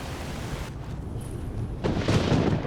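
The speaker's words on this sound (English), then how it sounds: "thunder is next level." Thunder in the video game Skyrim VR, a low rumbling roll that swells into a louder, broad crash toward the end, heard alone without talk.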